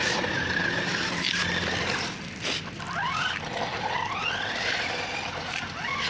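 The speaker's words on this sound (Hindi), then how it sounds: "ट्रैक्टर घिसता हुआ जा रहा है, टायर घिसते हुए जा रहे हैं" Swaraj 855 tractor with weak brakes skidding, its tires scraping and squealing along the ground over a loud steady engine roar, with rising whining squeals in the second half.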